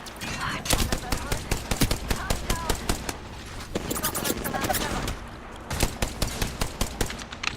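Rapid bursts of video game gunfire crackle loudly through a firefight, repeated volleys of automatic shots with brief pauses, under players' voice chat.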